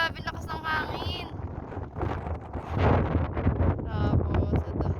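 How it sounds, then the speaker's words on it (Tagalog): Strong wind buffets the microphone in low rumbling gusts, with voices talking over it throughout. "grabe lakas ng hangin"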